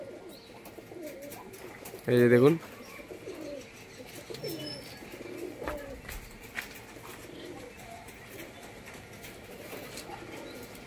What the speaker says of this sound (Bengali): এই যে এদিকে পায়রা উড়ছে